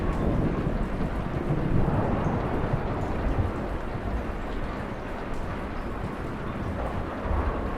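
A steady thunderstorm with rain from the video game Kentucky Route Zero, a continuous dense wash of falling rain with low rumbling underneath, loud and unbroken throughout.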